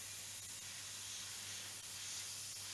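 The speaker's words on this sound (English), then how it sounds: "We'll test first, make sure we've got a good spray." Airbrush test-spraying thinned Mr. Hobby RLM 65 lacquer paint for a Ju 86 scale model, a steady soft hiss of air and paint held continuously at close range with no talking.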